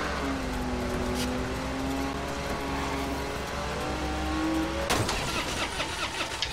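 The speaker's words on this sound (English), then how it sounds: "Gonna crash into the truck." Car driving and crashing into a truck in the Watch Dogs video game: a steady engine drone with a rising whine, then a sudden loud impact near the end followed by clattering debris.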